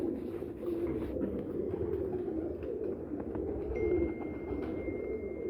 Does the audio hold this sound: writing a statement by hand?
no